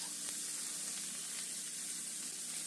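Four cracked eggs fry in a pan with a steady, even sizzle that holds at a moderate level throughout, with no voices over it.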